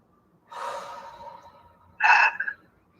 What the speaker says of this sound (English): Take a couple of deep breaths.